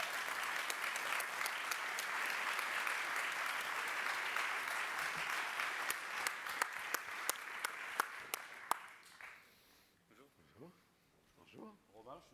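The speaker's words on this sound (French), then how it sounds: "Vous pouvez les applaudir." Applause from the audience at a French business award ceremony, dense and steady for about nine seconds with some sharp individual claps standing out, then fading away as speaking voices take over near the end.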